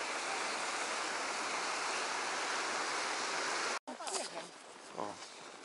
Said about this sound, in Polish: A pod spodem płynie strumyk. I tak strumyk płynie sobie.